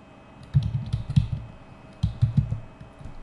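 Fingers type text on a computer keyboard in two quick bursts of close, crisp key clicks separated by a short pause, with no talking.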